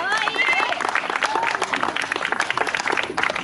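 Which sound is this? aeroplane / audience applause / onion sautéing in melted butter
audience applause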